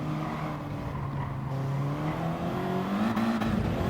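Race car engine in GT Sport at Monza, revving and downshifting as it brakes into the first chicane beside a Peugeot, a steady loud drone with rising and falling harmonic pitch throughout.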